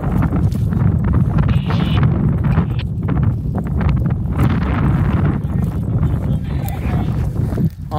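Strong wind buffeting the microphone outdoors at a rocket launch and recovery site, a loud continuous low rumble with gusty fluctuations throughout.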